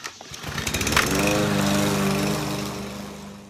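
A lawn mower running steadily up close, mowed by kids helping out in Oak Island, Brunswick County; the engine drone starts, builds quickly and holds a steady hum before easing slightly, with no talking.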